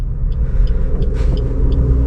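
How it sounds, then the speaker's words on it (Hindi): A truck rumbles past on the road in a driving-lesson setting, a loud, steady low roar lasting about two seconds with faint rattles on top and no talk. "पर पहले ट्रक आ रहा है"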